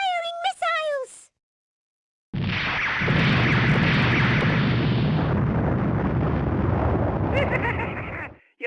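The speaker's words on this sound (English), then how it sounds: "Launch missiles! Firing missiles!" Missiles fired at the Colossus in the Tron Bonne video game: after a brief voice and a pause, a loud, sustained roaring blast of launches and explosions rumbles on for several seconds, then cuts off abruptly.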